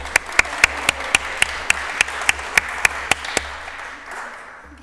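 Applause at a tourism master's degree graduation ceremony, a broad bed of crowd clapping punctuated by loud, evenly spaced single claps close by, fading out near the end.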